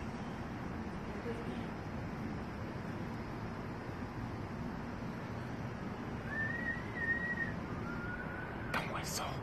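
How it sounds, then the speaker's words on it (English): A faint whistled tune rises briefly over steady outdoor night noise and low background chatter, a short melodic line near the end of the clip. "Don't whistle."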